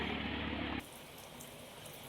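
Rain pours steadily in Bikaner and Churu's Sujangarh, a dense hiss that is louder for the first moment before settling into an even, moderate patter with no voices.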